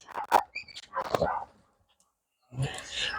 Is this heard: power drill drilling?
no